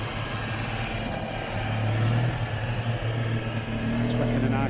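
Citroen Ami engine arriving at a classic car show, a steady low hum that swells slightly midway, mixed with crowd chatter and people talking nearby.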